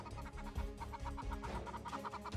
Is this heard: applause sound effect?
no